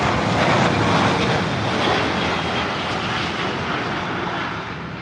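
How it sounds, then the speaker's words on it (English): A British Airways Boeing 777 airliner at London Heathrow roars past loud and close, a broad, steady engine rush that slowly fades over a few seconds, with no voices. "Another British Airways 777 from San Diego."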